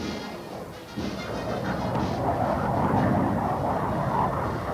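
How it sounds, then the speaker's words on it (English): A 1957 Crusader jet on a record non-stop transcontinental flight from Los Alamitos, California, roars as a steady, broad, loud rushing drone, with a slight dip near the start before holding full strength, and no talk. "His Crusader jet camera plane leaves Los Alamitos, California, headed non-stop for New York with a sister plane."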